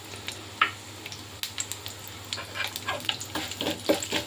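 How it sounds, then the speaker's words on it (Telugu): Chana dal and urad dal frying in oil in a pan for carrot mango pickle, a soft continuous sizzle with scattered small pops and stirring scrapes, close and moderate in level. "ఫస్ట్ ఇవి మనకి వేగాలి, కొంచెం వేగాలి ఇవి. ఇలా వేగుతున్నప్పుడు మనకి 1 స్పూన్ మినపప్పు కూడా వేసుకుందాము."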